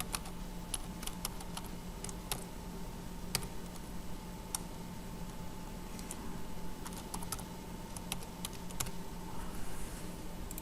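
Keys clicking steadily on a computer keyboard while programming in Java, a fast, uneven run of sharp taps close by over a low background hum, with no talking.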